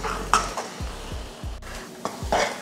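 Chana dal being stirred with jaggery syrup in a pan on the stove, a few slow scrapes and soft knocks of the spoon against the pan, quiet and close, with no talking.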